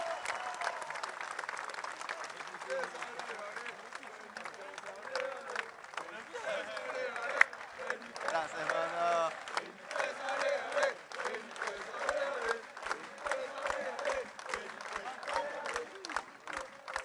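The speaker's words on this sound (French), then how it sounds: "Et on peut l'applaudir bien fort" An audience at a tribute ceremony in Nice applauds in a sustained wash of clapping, with voices talking over it and a few sharper claps standing out near the end.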